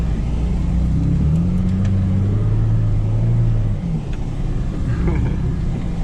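Engine of a vehicle switched out of 4-wheel drive rumbling and revving as the back tires spin, a loud, steady low drone that swells and dips, close by, with a voice talking faintly underneath.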